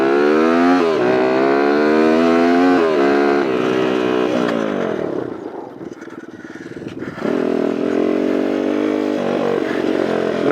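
A CR80 dirt bike converted for riding at Lake El Reno, its two-stroke engine buzzing loud and close with rising and falling revs, easing off briefly midway before pulling hard again.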